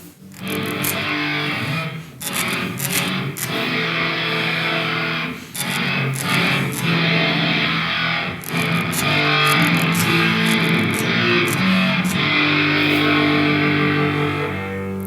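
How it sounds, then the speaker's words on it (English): Heavily distorted electric guitar playing chords and riffs continuously through a JavaScript distortion effect, a thick, saturated, buzzing tone with sharp attacks and no talking. "And now let's try distortion. It's way more heavy."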